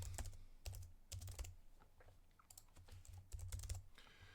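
Fingers typing a street address on a computer keyboard, with quick clusters of key clicks and short pauses between bursts, close and clear with no voices.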